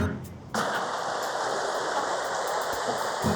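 A stream rushing downhill toward a waterfall, a dense steady hiss of flowing water that surges in loud and close after a brief quieter moment at the start, continuing evenly to the end.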